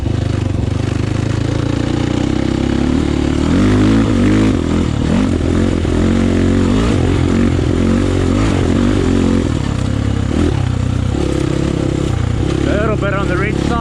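RR300 dirt bike ridden on a mountain with its jetting being dialed in: a loud, close engine droning continuously, rising and falling through repeated revs and throttle blips.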